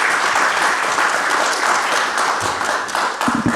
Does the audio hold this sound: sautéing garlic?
no